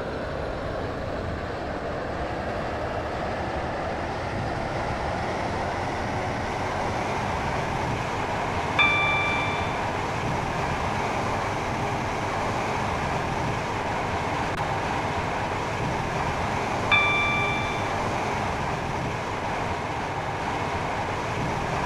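Steady rumble of a train running on a Waterline service to Connolly in the Roblox game SCR, a continuous mid-level drone with two short chime-like ding tones spaced apart.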